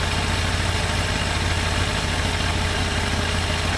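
A Yamaha Thunderace motorcycle engine idling steadily after carburettor balancing, loud and close with an even, continuous low rumble and no talk.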